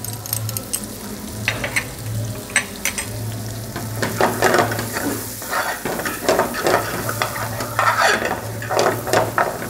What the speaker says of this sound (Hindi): अनियन और गार्लिक हमारा सोटे हो चुका है